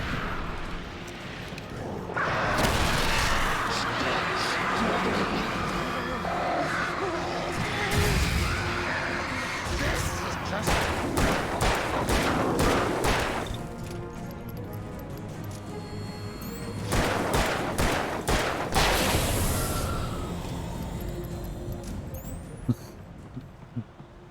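Chaotic combat in Alan Wake Remastered with a flare gun firing amid loud bangs, crashes and bursts of noise, dense and close, with shouting and talk over parts of it.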